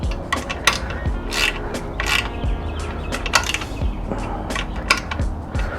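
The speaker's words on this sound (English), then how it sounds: "we're just going to tighten up these 2 top bolts that are on the muffler and the bracket" A ratchet wrench tightens the exhaust muffler and bracket bolts on a Yamaha YFZ450R ATV, producing bursts of rapid metallic clicking in repeated strokes, close and fairly loud.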